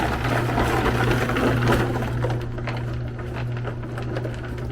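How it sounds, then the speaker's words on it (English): A homemade rock tumbler with ABS plumbing pipe barrels runs with a loud, steady mechanical rattle and hum, its clatter easing slightly partway through. "It's a loud tumbler"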